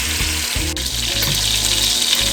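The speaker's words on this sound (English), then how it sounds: "We have a beautiful brown sear on it right now." Short ribs sear in a hot pan for a Jamaican short rib stew, a steady loud sizzle and crackle of frying fat running unbroken throughout with no voices.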